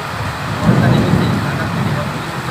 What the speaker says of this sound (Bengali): বৃষ্টির ঝনঝনের শব্দ প্রাণ জুড়ে যায়।